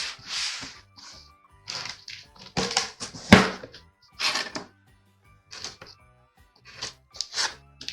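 A small ceramic slicer cuts open an advent unboxing box from a quilting shop, giving a series of short, close scraping and crackling bursts with tapping between brief pauses. No one speaks.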